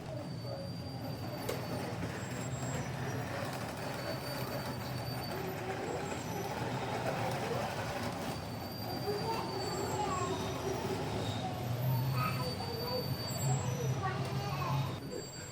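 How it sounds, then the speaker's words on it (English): A working Meccano model of a Camborne and Redruth tram, powered from overhead wires, runs steadily in a museum with a continuous rolling rumble and faint squeals, the low hum swelling slightly toward the end. "this working Meccano model of a Camborne and Redruth tram, collecting its power from overhead wires"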